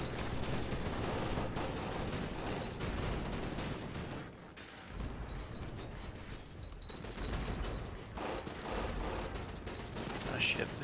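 Gunfire from the video game AFF crackles in dense bursts and rapid automatic fire, with a short lull midway, beneath a voice.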